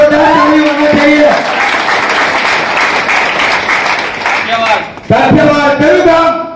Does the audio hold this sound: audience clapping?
yes